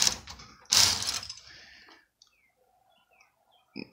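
Brother 8-button knitting machine ratcheting while knitting a pink and blue fairisle pattern: two loud bursts of mechanical clatter, then quiet with faint clicks and a short knock at the end.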